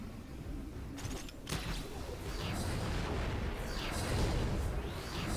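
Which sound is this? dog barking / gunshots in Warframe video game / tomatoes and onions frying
gunshots in Warframe video game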